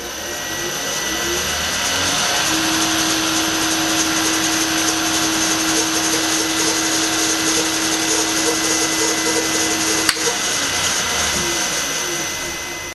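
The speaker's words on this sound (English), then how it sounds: "Next job was to drill through that 2mm hole in the middle of the disc." A handheld drill bores a 2mm hole through the center of a metal disc, a steady high whine holding for several seconds, spinning up at the start, with a sharp click near the end before winding down.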